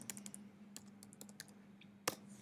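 Laptop keyboard typing a web address: a quiet run of quick, uneven key clicks over a low steady hum, ending in one sharper, louder keystroke like a press of Enter.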